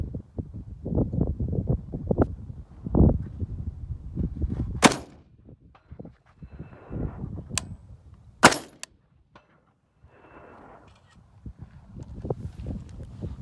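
Two sharp, loud gunshots ring out at a bowling pin competition with targets at 225 yards, spaced a few seconds apart amid outdoor wind noise and rustling.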